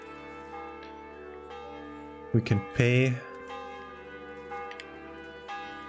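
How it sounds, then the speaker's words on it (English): A bright doorbell rings twice in a short burst midway in Kingdom Come: Deliverance, loud against a quiet electronic background, with a brief spoken phrase nearby. "The doorbell is ringing."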